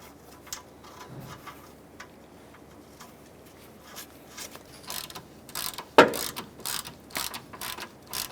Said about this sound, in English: You can get your nut started.